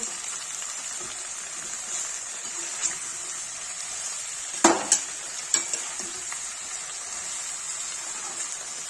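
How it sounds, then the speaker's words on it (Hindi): Aloo parwal sabzi (potato and pointed gourd) being stirred in a pan after salt goes in, a steady low sizzle with a few sharp scrapes and clinks of the spoon near the middle, no talking. "इसमें नमक डाल देंगे, चला देंगे"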